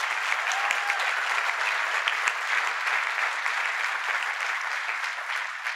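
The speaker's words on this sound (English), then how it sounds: "Let's give them a round of applause as well." Steady, dense applause from a large crowd at a presidential event in Kansas City fills the whole stretch at an even level, with no voices rising above it.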